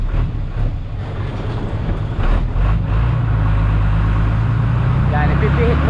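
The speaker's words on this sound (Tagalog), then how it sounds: "ipipihit muna natin yung ating sasakyan" A road-clearing vehicle being turned around during fiesta preparations, its engine droning steadily and close with a low rumbling hum and wind buffeting throughout, and people talking over it.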